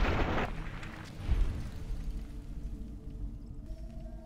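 Rifle gunfire in the video game Fallout: New Vegas, a loud booming shot at the start followed by a low rumbling tail and a further deep thud, with background game ambience.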